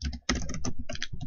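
Rapid keystrokes on a computer keyboard while entering C++ code, a close, dense run of clicks with one brief pause near the start.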